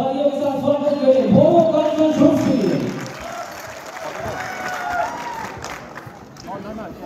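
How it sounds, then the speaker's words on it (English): Outdoor audience at a Karbi Anglong Day cultural festival applauding and cheering as Bagoba dancers are welcomed, clapping swelling and fading over a PA announcer's voice. "Let's please welcome them with a huge round of applause."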